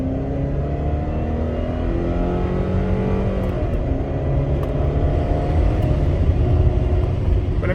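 A high-mileage Chevrolet Malibu drives along with a steady engine drone and road rumble, a faint whirring tone running through it, heard from inside the car.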